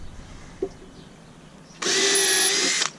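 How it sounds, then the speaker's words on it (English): A power drill drives a timber lock screw into pre-drilled wood while building a raised garden bed: a faint knock, then one close, loud whirring burst lasting about a second before it stops. "I'm going to try a timber lock up here just to see if I can bring these two pieces together."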